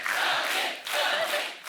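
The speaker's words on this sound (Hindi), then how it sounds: "सनी के लिए जोरदार तालियां।" Applause and cheering from a studio audience for Sunny Leone on a comedy talk show, a dense continuous wash of clapping with a brief dip midway before swelling again.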